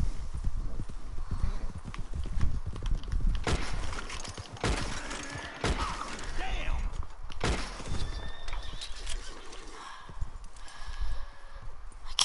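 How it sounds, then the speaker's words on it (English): In Red Dead Redemption 2, a horse whinnies amid hooves clip-clopping, mixed with sharp bursts of other game action and faint background activity. "Damn. I killed his horse."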